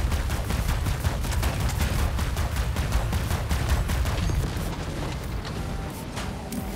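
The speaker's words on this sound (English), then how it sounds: "Firing at long range with this Titan." Robot weapons fire in War Robots: Frontiers as a Titan shoots at long range, a dense, rapid barrage of loud booming shots that continues without a break before easing slightly near the end.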